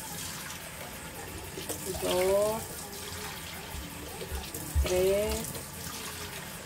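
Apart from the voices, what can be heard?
cups of water poured into pot of rice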